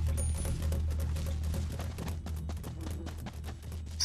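Gunfire in the Mini Ninjas video game, a dense run of sharp cracks and thuds over a steady low musical drone, loud and continuous with a final burst near the end.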